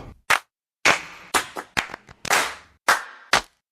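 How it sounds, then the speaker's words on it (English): Big, sharp single hand claps meant as a snare sample for a beat ring out one at a time with short decays, about ten distinct hits spaced irregularly across a few seconds. "I want like a clap. I want a big giant clap."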